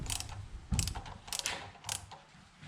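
Ratchet wrench working a bolt loose on the intake camshaft of a BMW N52 engine, with several bursts of close mechanical clicking separated by short pauses, no talking.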